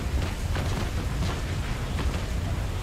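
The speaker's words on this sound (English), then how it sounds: "Come on, I need just one good broadside. Fire!" A sailing warship's cannon broadside fires in the naval combat game Naval Action, a dense continuous roar of overlapping blasts and rumbling booms filling the whole stretch, loud and unbroken.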